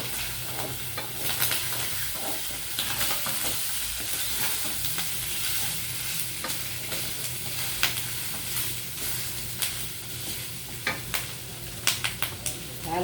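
Mang Tomas sauce poured into a hot frying pan and stirred, steady sizzling with frequent scraping and utensil knocks, a few sharper clicks toward the end.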